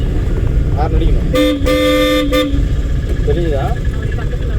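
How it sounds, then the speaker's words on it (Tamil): A car horn honks in one sustained blast lasting about a second, loud over the engine and road noise of a driving-school car during a lesson. Faint voices can be heard around it. "ஹார்ன் அடிக்கணும்."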